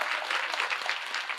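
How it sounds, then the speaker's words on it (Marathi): Short burst of audience clapping at a Marathi kirtan, a steady patter of many hands at moderate distance, brief and fairly soft. "वाजवा टाळ्या जोरात वाजवा."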